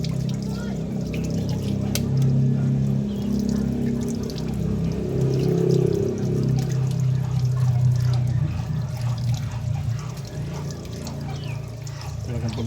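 Water poured over still-hot boiled eggs to cool them, a steady pouring and splashing rush with a low gurgle, close, with voices talking faintly in the background.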